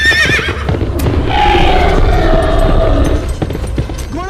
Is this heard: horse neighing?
yes